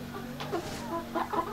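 Backyard chickens and roosters clucking close by, several short throaty clucks in an uneven cluster over a low steady background, with no talking.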